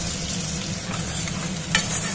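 Sliced onions frying in oil in a pan for a spicy crab curry, a steady close sizzle with soft stirring scrapes and one brief louder clatter near the end.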